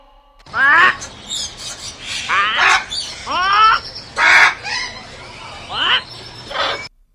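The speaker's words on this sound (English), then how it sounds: "P for parrot." A parrot squawks in a run of loud, harsh calls, about eight in quick succession, close and alone with no talk.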